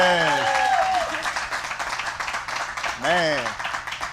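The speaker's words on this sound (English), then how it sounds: "I really don't know where the clapping is coming from" Light clapping from a small crowd runs beneath voices, with high whooping calls rising and falling at the start and again near the end.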